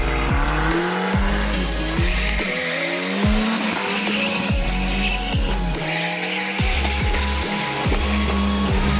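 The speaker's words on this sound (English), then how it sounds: "And today we're doing some drifting." A 1994 Volvo 940 turbo drift car drifts with its engine revving hard and tires squealing repeatedly in long, rising and falling screeches, loud and close throughout with no talk.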